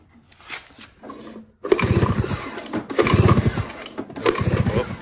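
A snow drag sled engine is cranked over to check the spark plug: a few faint starter whirs, then three loud bursts of rapid mechanical chugging separated by short pauses.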